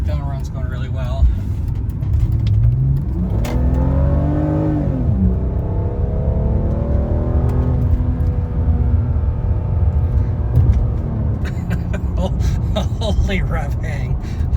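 A BMW E46 330ci engine revs up inside the car while driving in sport mode, the revs hanging and slowly falling back, a steady loud drone with rising and falling pitch.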